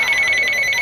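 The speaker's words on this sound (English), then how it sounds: "Get to the phone, hurry up." A telephone bell rings loudly and steadily in a fast, continuous trill, close by and alone, at a Portuguese festival comedy show.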